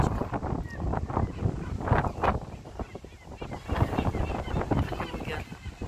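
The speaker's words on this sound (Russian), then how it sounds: "Ветер сегодня сильный." Strong gusty wind buffets the microphone in a seaside park, a broad rushing roar rising and falling in waves throughout, with faint background noise beneath.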